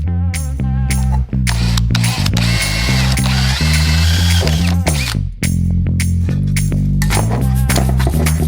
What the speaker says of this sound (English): I'm going to use a self-tapping screw to put it on temporarily